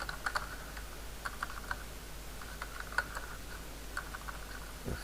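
Quiet, scattered keystrokes on a computer keyboard while code is typed, short clusters of clicks separated by pauses, soft and close with no talking.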